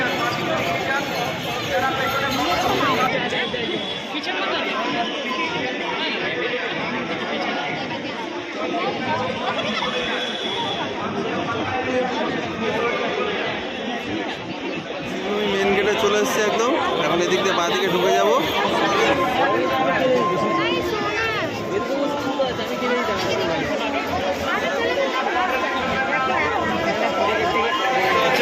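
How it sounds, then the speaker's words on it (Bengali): A dense crowd chatters at the entrance of the Sree Bhumi Sporting Club Durga Puja pandal in Kolkata, a continuous close babble of many voices with footsteps and shuffling, while a nearby voice speaks over it. "অসংখ্য মানুষের ভিড় সকলে এগিয়ে যাচ্ছে শিবভূমির দিকে"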